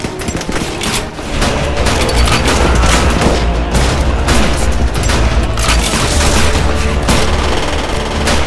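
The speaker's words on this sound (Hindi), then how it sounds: "गोलियां चलाता ना मेरे भाई" Dense, loud gunfire and booms from a dramatized battle against Chinese troops at Jaswantgarh, Arunachal: relentless overlapping volleys and bursts filling the whole stretch without pause.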